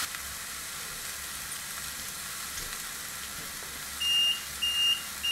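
A gammon steak sizzles in a closed contact grill, giving a steady, close hiss throughout, with a few short electronic beeps from the grill's timer near the end.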